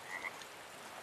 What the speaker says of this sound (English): Did I hear a frog?